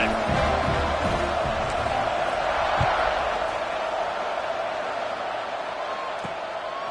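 A large football stadium crowd roars after a scoring drive, a dense, sustained wash of cheering that slowly eases off, heard from a distance with an announcer talking over it.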